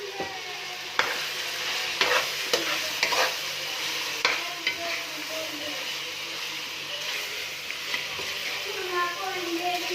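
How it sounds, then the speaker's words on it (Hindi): Spices being stirred and mixed into aloo gosht in a pot, steady frying sizzle with repeated scraping knocks of a spoon against the pan every second or so, close and fairly loud. "अब हमने इसको मिक्सअप करना है।"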